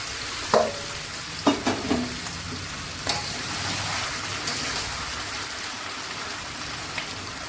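Fried potatoes tip into a hot pan for aloo dum with a few sharp clatters, then settle into a continuous sizzle and light scraping of stirring, fairly close and without talk.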